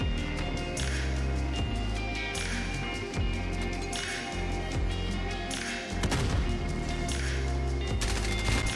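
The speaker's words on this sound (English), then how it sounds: "so I started shooting him first" Rapid gunfire in Call of Duty Modern Warfare free-for-all multiplayer, repeated loud bursts of automatic shots with heavy low thuds, close and continuous across the stretch without talk.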